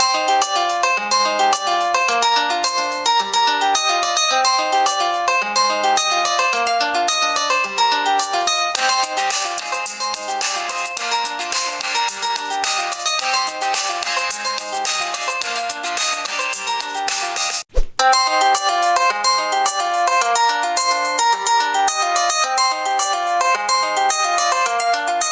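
Bright ringtone melody played loudly through the speakers of a Xiaomi Redmi Note phone, rapid repeating electronic notes for about seventeen seconds, a brief cut, then the same tune resumes slightly thinner from another Redmi Note handset.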